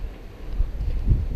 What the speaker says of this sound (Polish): strasznie wiatr wieje